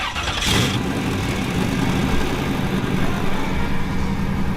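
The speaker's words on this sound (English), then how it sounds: "We're gonna see if it'll start." A 1957 Chevy engine cranks and catches with a brief burst, then settles into a steady rumbling idle close by.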